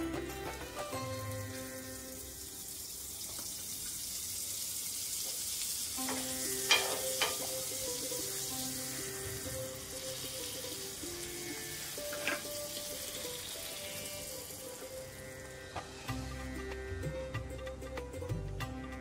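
A veg cheese sandwich toasting in a grill gives a steady close sizzle and frying hiss throughout, with a few light clicks and taps now and then and no voices.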